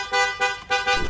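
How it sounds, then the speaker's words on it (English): Car horn honks out a rhythmic pattern of three or four loud, tonal toots in quick succession, close and clear, with no talking. "I get in my car and I start honking our favorite song."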